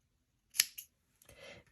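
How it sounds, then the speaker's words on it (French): Scissors snip through crochet yarn in two quick, close snaps, followed by a brief softer rustle of the thread. "vous allez couper le fil"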